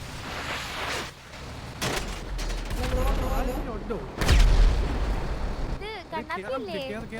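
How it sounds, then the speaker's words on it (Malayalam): Video game gunfire cracks in rapid bursts and single shots, loud and close, mixed with in-game effects, while people talk over and between the shots. "ഇതെങ്ങനെ വെടിവെക്കുന്നേ?"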